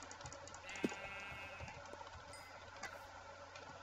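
A sheep in a single-player video game bleats once in a brief, thin call, heard alone over faint game ambience with a few soft clicks and thuds.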